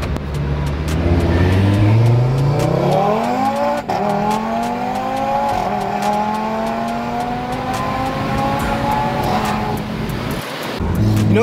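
A modified Audi RS3 accelerates hard, its engine loud and close from inside the cabin, the pitch climbing through several gear changes with short dips between shifts.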